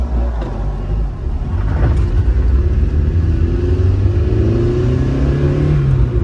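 A Nissan Be-1 car accelerates on the road, its small engine revving up loud and close from inside the cabin with a rising, rumbling tone as it gathers speed.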